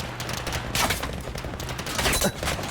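Rapid bursts of gunfire crackle in Battlefield V, with several quick volleys over a few seconds at moderate loudness and no talk.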